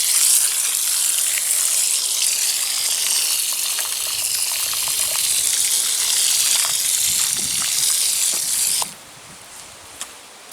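Water gushes and sloshes steadily as it drains into a freshly dug planting hole for a shrub rose in a garden, a continuous close rush that cuts off abruptly near the end, leaving quiet.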